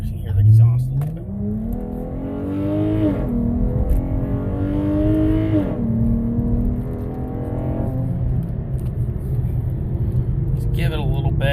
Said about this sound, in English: We're gonna get on it a little bit here, so you hear the exhaust a little bit.